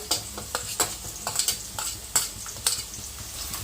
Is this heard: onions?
yes